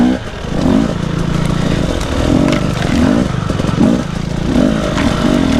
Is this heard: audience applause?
no